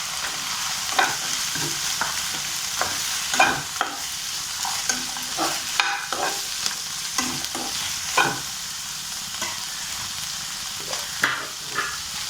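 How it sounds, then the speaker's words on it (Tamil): Thoothuvalai greens sautéing in a pan with grated coconut, a low steady sizzle punctuated by frequent scraping strokes of a spoon, close up with no voices. "நல்லா வதங்கிடுச்சு கீரை."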